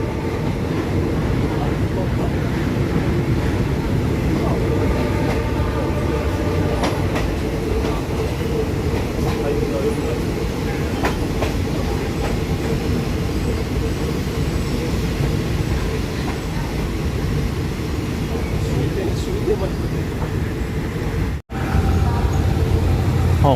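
Onboard a Thai third-class ordinary fan-cooled train, service 258 bound for Thonburi: a steady, loud rumble of the carriage rolling on rails with faint clickety-clack, continuous throughout, with a brief dropout near the end.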